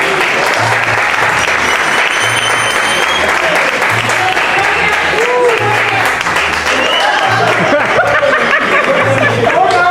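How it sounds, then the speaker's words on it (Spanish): Sustained audience applause fills an awards ceremony hall, loud and continuous throughout, with a steady low rhythmic thump underneath and scattered laughter mixed into the clapping. "un fuerte aplauso para Jorge Licona Guerrero."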